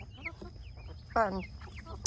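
Rhode Island Red hens clucking softly nearby, with one louder, drawn-out cluck in the middle and quieter chicken sounds around it.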